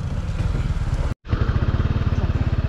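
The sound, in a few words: Honda ADV160 motorcycle engine running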